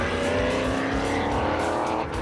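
A NASCAR race car launches from a standing start with the clutch slipping, its engine roaring loud and steady at high revs and close by, with a faint tire squeal and no voices.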